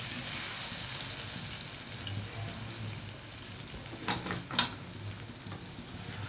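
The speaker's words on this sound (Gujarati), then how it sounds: "આ તેલ મૂક્યું છે આ હું વઘારું છું." Patra, colocasia leaf rolls cut into pieces, fry in oil in a home kitchen, giving a steady close sizzle that eases off midway, then a couple of brief sharp crackles near the end.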